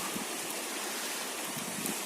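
Floodwater stream fed by recent rains around Bozkır, from the Kanlıböğet area, rushes in a steady broadband hiss, faint and continuous with no breaks and no voices.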